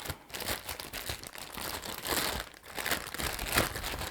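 Close, busy crinkling and rustling of plastic and paper packaging as a microphone shock mount is unwrapped, with irregular crunches and tearing.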